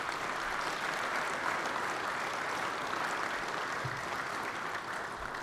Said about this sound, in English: give me a big round of applause for the panelists we have up here